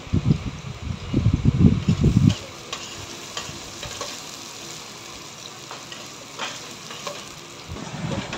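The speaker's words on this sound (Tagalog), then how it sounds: "magigisa na tayo ng ano, luya tsaka bawang" Ginger and garlic sizzle and hiss as they are stirred in a hot pan, loud at first, then easing to a softer fry before the stirring picks up again, with no voices.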